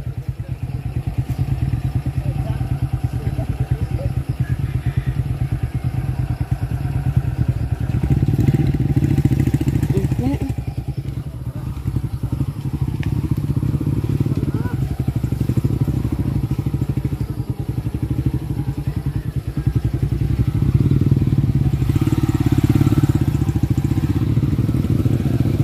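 Motorcycles rumble past in busy street traffic, a continuous low engine drone that swells and fades as bikes go by close, with clatter and faint voices in the background.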